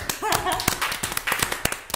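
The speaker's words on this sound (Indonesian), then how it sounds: "Nah, tepuk tangan dulu." A few people in a podcast studio clap their hands in sparse, uneven claps, mixed with talking voices.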